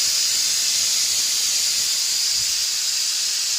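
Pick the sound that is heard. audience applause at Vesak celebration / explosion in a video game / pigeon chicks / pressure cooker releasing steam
pressure cooker releasing steam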